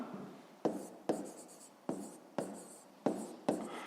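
A pen writing on paper during a fifth-grade maths exercise, a series of six or so short scratchy strokes in an uneven rhythm, close and quiet, no talk.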